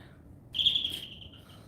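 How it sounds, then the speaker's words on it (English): A doorbell with a birdlike chime gives a single high, clear whistling tone that sustains for about a second and fades, heard indoors against quiet background hum. "Our doorbell sounds like a bird."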